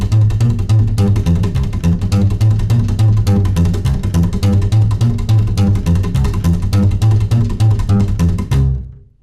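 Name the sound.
rockabilly slap bass walking bass line in C, rumba rhythm, full speed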